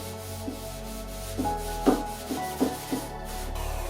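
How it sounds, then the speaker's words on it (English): Sanding of a wooden lamp base, a series of short rasping strokes, about six in quick succession, close and fairly loud over a low steady hum. "This also required a good cleanup as well as a good sanding to finish it off properly."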